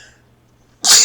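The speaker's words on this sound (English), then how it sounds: "Excuse me just a moment. I sneeze." A single sharp sneeze bursts out suddenly at the end after near silence, loud and close, a short explosive blast of breath.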